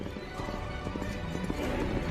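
Horse hooves clip-clop in a steady galloping rhythm, close and fairly loud, over a busy rumbling background with no clear talk.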